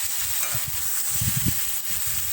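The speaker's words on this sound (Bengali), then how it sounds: "ভেজে রাখা আলু ও ফুলকপি দিয়ে কষিয়ে নিতে হবে" Potatoes and cauliflower fried with spices in a pan for a Bengali cauliflower-potato curry, a steady close sizzle with soft stirring scrapes and bumps throughout.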